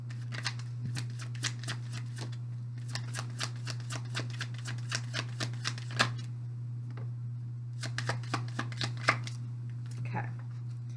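Tarot cards being shuffled, rapid riffling bursts of crisp card flicks in several clusters with short pauses between, close and quiet over a steady low hum.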